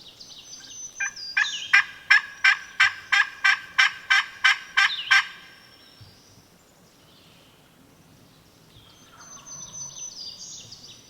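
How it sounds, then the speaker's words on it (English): A wild turkey gobbler gobbles in a fast rattling burst of about ten pulses, fairly near and loud, then quiet outdoor ambience with faint bird calls, on public land in Virginia. "Bird's gobbling"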